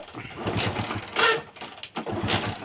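A Hero Passion Pro motorbike with an electrical current fault is kick-started at close range, giving a few rough, uneven turns of the engine in short bursts, with a voice speaking briefly alongside.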